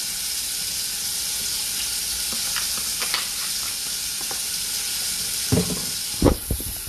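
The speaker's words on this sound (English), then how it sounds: "So I put in just a little bit of oil into my little pan here so I can go ahead and get my onions going and sauteed" Onions sauteing in a little hot oil in a small pan on a stovetop, a steady soft sizzle and hiss throughout with a few louder clinks and stirring knocks near the end.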